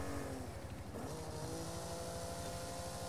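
A Fiat fitted with a Ferrari engine is driven in the video game Forza Horizon 5, giving a steady, pulsing engine drone at a fairly low level with no talk over it.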